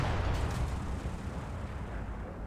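A tank gun fires in the video game War Thunder: a loud booming blast that rolls off into a decaying rumble, heard on its own with no talk.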